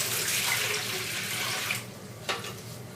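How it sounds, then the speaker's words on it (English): Tap water pours steadily into an idli cooker for nearly two seconds, then stops, followed by a brief clink and quiet. "I have filled this idli cooker with water."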